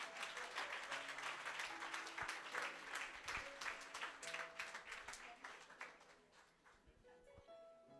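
A church congregation applauds to acclaim Jesus, a dense, sustained burst of many hands clapping that fills the room, gradually thinning out with a few lingering claps near the end.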